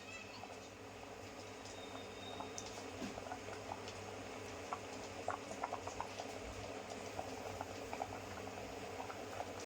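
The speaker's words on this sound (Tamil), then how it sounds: "முதல் பால் ஊற்றினதுக்கப்புறம் இந்த மாதிரி கொதிக்க கொதிக்கணும் நல்லா கொதிக்கணும்" Steady bubbling and popping of milk payasam boiling in a pot, continuous and close, with small bursts scattered throughout.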